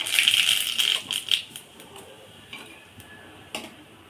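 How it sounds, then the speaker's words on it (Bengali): Mustard seeds crackle and pop in hot oil with dried red chillies for a starfruit dal tempering, giving a dense burst of sharp ticks over the first second and a half, then a few scattered pops. "এবার দিয়ে দিলাম খানিকটা সরিষা"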